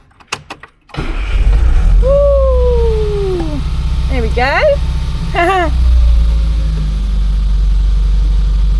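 An Austin Metro's engine cranks with a few clicks, catches, and settles into a steady, loud idle rumble while a voice speaks briefly over it.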